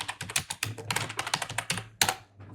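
Rapid typing on a computer keyboard, close and crisp, a quick irregular run of key clicks with a brief pause and one sharper keystroke near the end, no voices.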